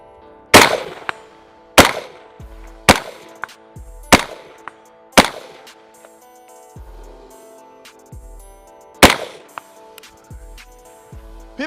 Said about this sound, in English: this is gonna be the first mag of me shooting it extensively